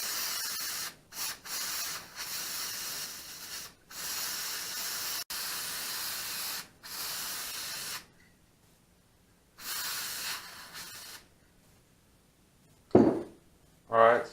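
Uni air filter oil sprayed from a can onto a foam air filter: several loud, close aerosol hisses of varying length separated by brief pauses, then quiet with a short sound near the end.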